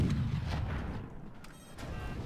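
Cannon fire in the multiplayer strategy game Forts, with two cannons in action: heavy booming blasts over a dense low rumble, with no pauses between shots.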